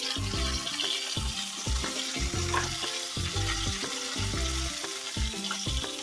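Snakehead fish frying in a pan of oil, a continuous loud sizzle with crackling spatter, overlaid by a repeating rhythmic musical pattern.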